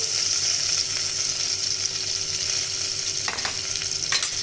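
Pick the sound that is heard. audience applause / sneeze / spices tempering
spices tempering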